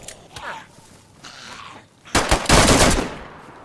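Quiet background sounds give way to a loud burst of rapid Kalashnikov gunfire in DayZ on PS5, lasting about a second, sharp and close, then fading away.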